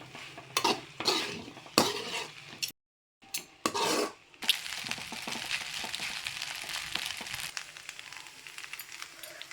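Egg pasta being stirred into a spiced masala in a pan, repeated scraping and clinking of a utensil against the pan with a soft sizzle beneath, pausing briefly before a steadier stirring texture.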